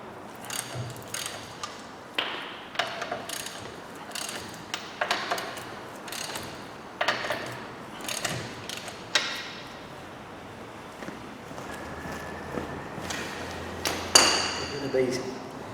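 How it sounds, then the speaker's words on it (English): A wrench breaking wheel nuts loose on a Peugeot 208 front wheel, heard as a series of sharp metallic clicks and clunks spaced irregularly across the clip, fairly close. "Crack these wheel nuts free."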